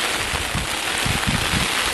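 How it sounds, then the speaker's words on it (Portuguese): Fine light rain begins over the dry Bahia backcountry as wind gusts, a soft continuous hiss of drops and air rushing steadily close by. "Começou a chover agora. Ainda nem correu água. É uma chuva mais fina"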